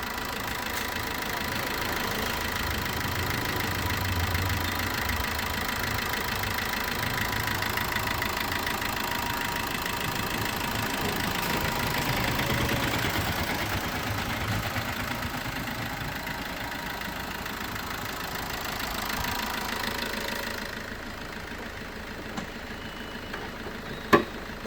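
A 2014 Maruti Ertiga VDI diesel engine idles in a steady, even mid-to-low hum that holds near and level throughout, with no talk over it.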